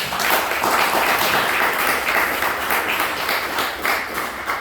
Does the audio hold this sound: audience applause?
yes